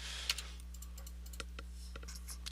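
A computer keyboard is tapped in irregular light clicks while someone types code for a web page, the keystrokes faint and close over a steady electrical hum with no talking.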